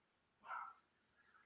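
A single distant dog bark, one short muffled woof heard faintly through a closed door in an otherwise quiet room.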